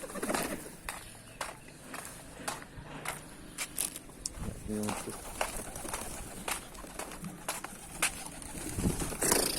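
Adana pigeons coo softly in a loft amid sharp clicks and handling noises, the cooing faint and intermittent under the clatter.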